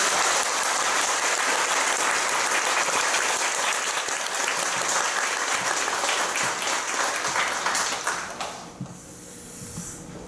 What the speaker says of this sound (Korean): 박수로 목사님 모시겠습니다.